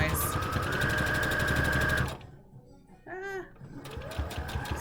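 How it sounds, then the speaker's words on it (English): Sewing machine backstitching the corner pieces of a surgical-style fabric face mask: a fast, steady mechanical whir that stops midway, a brief squeaky handwheel-like sound, then the stitching whir resumes, close and loud. "backstitching just like 2 stitches over these corner pieces just to make absolute certain that they are secured as secure as possible"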